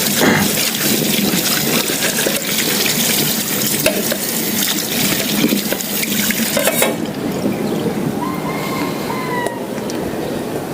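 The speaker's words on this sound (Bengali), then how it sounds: "এই কাভারটা একটু ধুয়ে নিই" A rice cooker lid is rinsed under a running kitchen tap, a loud continuous splash and gush of water, close up, with the flow shifting partway through.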